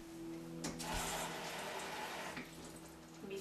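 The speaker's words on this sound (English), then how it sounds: "I'm going to add another 1/2 cup of water." Water poured into a pot of chickpea curry before the pressure cooker lid is shut, a steady splashing pour near the microphone over a low electrical hum, swelling briefly in the middle before easing off.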